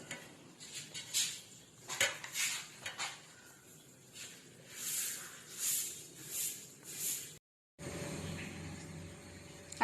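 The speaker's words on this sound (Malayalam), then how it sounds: "ഇത് നന്നായിട്ടൊന്ന് മിക്സ് ചെയ്തെടുക്കാം" Chopped chaya spinach is mixed by hand with grated coconut in a bowl, making rhythmic scraping and light clinking strokes, close and fairly quiet, broken by a brief silence near the end.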